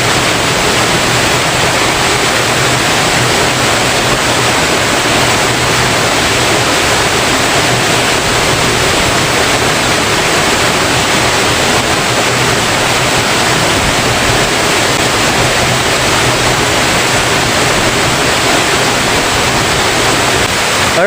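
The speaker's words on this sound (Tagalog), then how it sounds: "please visit Taluntunan Waterfalls, Taluntunan Falls, Barangay Manugtong, Ayungon, Negros Oriental" Taluntunan Falls in Barangay Manugtong, Ayungon, Negros Oriental, pours as a loud, steady roar of falling water that stays constant and unbroken throughout.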